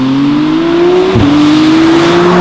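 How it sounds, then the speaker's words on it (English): McLaren Artura with a Novitec exhaust revs hard and loud, a steady high engine tone that dips briefly at a gear change and climbs again, close and dominant. "Listen to that. Typical also of McLaren, you don't hear V6 or V8, you just hear a cacophony of powerful noise."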